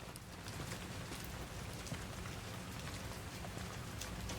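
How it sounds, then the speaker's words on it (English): Steady rain patters into muddy puddles in the game Resident Evil Requiem, a dense, even hiss of drops with no voices, continuous and moderately quiet throughout. "Look at the rain. Drops there in the water where it's muddy."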